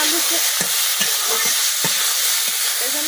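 Potatoes frying in a pan alongside spinach, with a steady bright sizzle and several sharp scraping stir strokes spread across the clip, close and fairly loud, with no voices.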